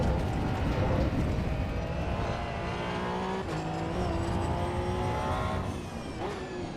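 A Porsche 992 drives along with a steady engine drone and road roar, the engine note rising and falling through gear changes with a brief shift around the middle.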